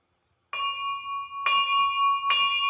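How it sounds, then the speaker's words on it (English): A bell strikes three times in succession, each tone ringing clear and sustained before the next, fairly close and alone. "we got the bell"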